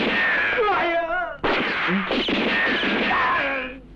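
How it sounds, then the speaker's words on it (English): Gunfire rings out in a gunfight scene from the martial arts film Challenge of the Tiger, with sharp blasts cutting through loud shouting and yelling voices. "we've just had another kung fu fight and now a gunfight"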